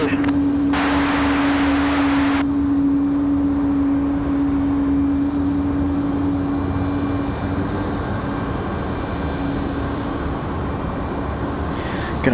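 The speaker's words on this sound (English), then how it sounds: "The A220 showing off. Wait until he gets out in front of our microphones to make noise." Airbus A220 jet engines idle on an airport taxiway, a loud, steady close whine with a strong sustained tone and a brief hiss burst near the start, with a voice talking over it.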